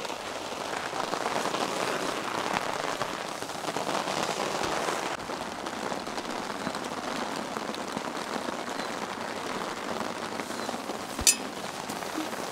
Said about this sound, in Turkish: Yağmur sesi mi?